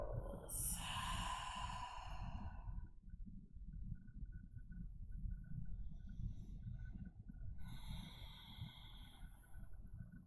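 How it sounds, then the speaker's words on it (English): Deep, slow breathing during a yoga session: a long, airy exhale fades out, followed by a steady inhale a few seconds later, close and soft over a low background hum. "Continuing to take those large inhales and full exhales."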